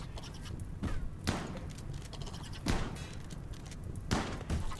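A RimWorld colonist fires on insect hives in a scattered run of shots, several sharp bursts spaced irregularly over a busy, low game background, moderately loud.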